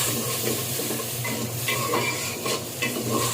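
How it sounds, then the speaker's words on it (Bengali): Whole cumin seeds sizzle in leftover fish-frying oil in a cooking pot, a continuous close crackle and hiss broken by a few sharper spits and the scrape of stirring. "একটা হাঁড়িতে তেলগুলো দিয়ে একটা চামচ পরিমাণ আস্ত জিরা ফোড়ন দিয়ে দিলাম"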